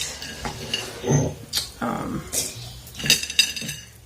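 Cocoa nibs are knocked and ground in a mortar and pestle, giving irregular hard clacks and gritty scrapes at close range, with a person talking between strokes.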